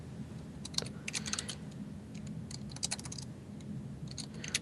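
Fingers typing on a computer keyboard, a run of quick clustered keystrokes with short pauses between bursts, close and fairly quiet over faint background hiss.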